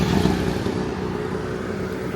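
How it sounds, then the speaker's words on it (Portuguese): Cars and tuk-tuks pass on a street in Chiang Mai, a close, continuous motor rumble with engine revving and clatter, loudest at the start and holding steady, no talk. "Só esperar os carros passarem, inclusive os tuk-tuks"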